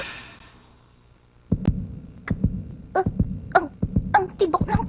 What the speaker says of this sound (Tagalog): Ang tibok ng puso ko.